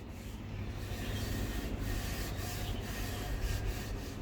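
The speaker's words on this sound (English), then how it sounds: "So you want to sand along the grains of the wood" A hand sands wood along the grain, a steady, dense rubbing rasp that continues without pause, close and moderately loud.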